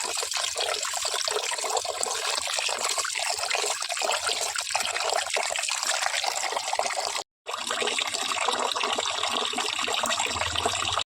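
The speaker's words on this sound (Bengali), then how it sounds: "চালটা ধুয়ে ভাতটা বসিয়ে নি হ্যাঁ চালটাকে ভালো করে দিয়ে নিই" Rice is washed in water, with a steady rush and splash of running water close by, broken by one brief silent gap before the flow resumes.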